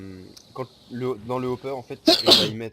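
One sharp sneeze bursts out near the end of French speech during a Minecraft redstone item-sorter build, loud and close after the talking.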